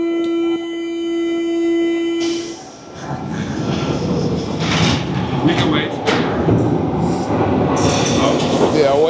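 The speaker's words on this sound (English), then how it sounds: "for that train to go by." A train rumbles past close by with rattling, clattering wheels and a brief high tone at the start, loud and continuous throughout.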